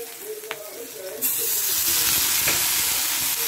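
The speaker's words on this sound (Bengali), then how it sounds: "এবার আমি এতে দেব জল।" Water poured into frying vegetables in a hot pan, a quiet sizzle with faint clinks that suddenly bursts into a loud, sustained hissing rush of steam and spattering, close and steady to the end.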